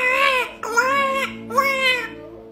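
A voice imitates a baby crying, three drawn-out wailing cries with brief breaks between them, close and fairly loud.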